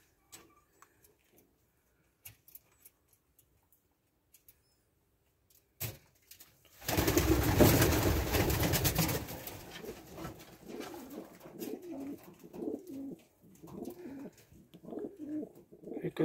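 Pigeons scatter with a sudden loud flutter of wings, followed by soft, low cooing that continues intermittently; quieter knocks and faint sounds come before.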